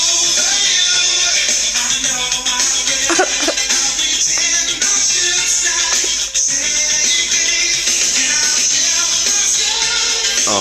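A pop song plays loudly and continuously, with dense instruments and vocal-like melodic lines throughout, no speaking over it.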